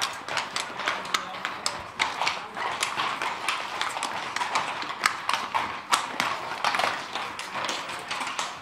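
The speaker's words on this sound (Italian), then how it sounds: "Quanti cavalli sono in tutto?" Horses clip-clop along in a festival procession for the Sagra di Sant'Antonio in Besozzo, about fifty of them, with steady, overlapping hoofbeats close by on hard ground and people talking in the background.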